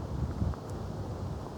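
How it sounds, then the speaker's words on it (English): Wind gusts across an outdoor golf course at a professional tour event, a steady low rushing roar that buffets the microphone, with no voices over it. "when the wind is gusting like that"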